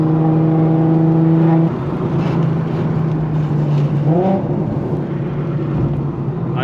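A loud Infiniti Q50 on RPF1 wheels drives hard through canyon corners, its engine holding a steady droning tone before dropping off and then rising again in a quick rev under wind and road noise.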